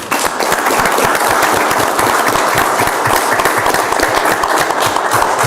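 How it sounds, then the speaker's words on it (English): A room full of people at a city commission meeting applauds loudly and steadily, dense clapping with no voices standing out. "Let's give them a big round of applause again."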